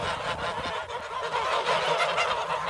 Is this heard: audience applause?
no